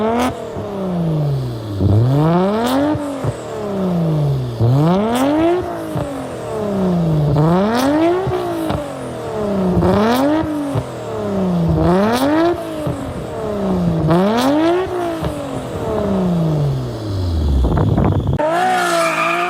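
Inline six-cylinder race car nicknamed Godzilla revs hard in repeated rising and falling sweeps, about eight cycles, with tire squeal and skidding throughout, loud and close, ending in a final sharp rev.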